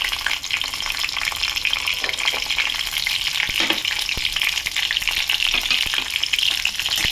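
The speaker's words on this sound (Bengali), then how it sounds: "কালো জিরাটা ফুটে উঠেছে, কয়েকটা 5-6টার মতো কাঁচামরিচ চিড়ে চিড়ে দিয়ে দিলাম।" Slit green chillies drop into hot oil with popping black cumin for a hilsa curry, giving a steady loud sizzle with a few sharp crackles and spatters, no voices.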